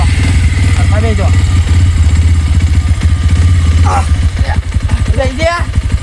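A motorcycle engine idles close by with a steady low, pulsing chug that holds throughout, while people talk loudly over it.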